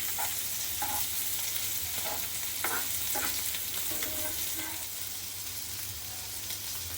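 Rava-coated mandeli fish fry crisply in a pan, with a steady close sizzle throughout and a few soft scrapes and clicks as the pieces are turned over. No one speaks.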